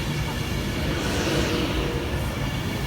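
A steady, rumbling roar of a two-coach train at a Greater Manchester station fills the clip, loud and continuous with a broad rushing hiss.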